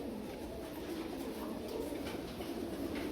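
A pigeon cooing softly and continuously close by, its low murmuring throaty notes running steadily under a constant hiss of background noise.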